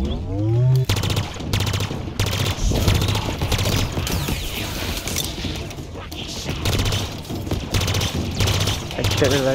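Sustained turret machine gun fire in Halo Infinite rattles in rapid bursts, loud and close, with brief gaps between volleys over the game's battle noise.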